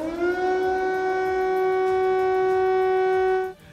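A steady, wailing air raid siren in a Ukrainian city during the Russian invasion holds one rising tone for a few seconds, then cuts off abruptly.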